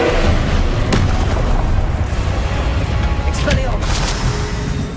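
Incendio fire spells blaze in Hogwarts Legacy amid a heavy continuous roar of booming, crackling combat effects, with sharp bursts standing out from the dense wash of game sound.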